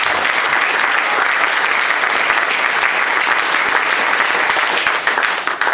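A church congregation at a Sunday service applauds the Lord with dense, steady clapping that fills the room at full volume from start to finish, with no break.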